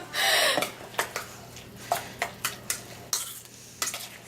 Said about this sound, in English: just mix it all together. And as you can see, I picked the biggest spoon I have in the house to mix this with.